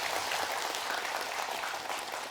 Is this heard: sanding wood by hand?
no